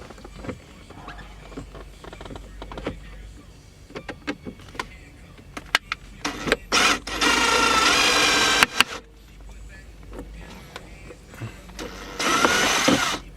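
Power screwdriver with a magnetic tip backing screws out of a 2003–2007 Honda Accord dashboard panel: two close whirring motor bursts, the first longer, separated by clicks and handling noises.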